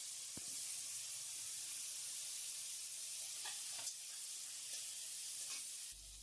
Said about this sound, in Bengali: এই তেলে এখন উস্তাটা দিচ্ছি।